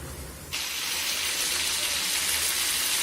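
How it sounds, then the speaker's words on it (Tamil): Water is poured into a pan of frying liver, a sudden hissing gush that starts sharply and then keeps up as a steady, loud sizzle close by. "இப்போ ஒரு 1/4 டம்ளர் தண்ணி ஊற்றி"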